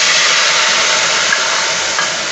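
Ground masala paste and browned onion paste sizzle steadily in hot oil for Hyderabadi mirchi ka salan, a loud, continuous close-up hiss with no talking.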